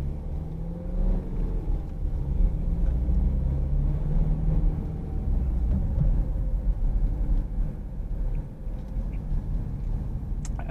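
A BMW X3 F-series engine keeps idling with its auto stop-start function coded out, a low, continuous rumble with slight swells in level and no pause or shutdown.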